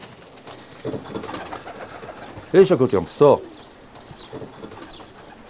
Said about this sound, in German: Ich liebe Tauben.